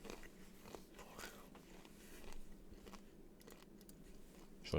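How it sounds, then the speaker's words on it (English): Crunchy banana chips bitten and chewed near a microphone, quiet irregular crisp crunches scattered over a low background, ending in a louder thump. "banana chips are super crunchy"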